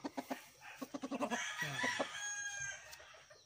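A red-faced broodcock rooster picked for the next breeding season crows close by, preceded by a rapid series of short clucking notes, then a drawn-out strained crow that fades out.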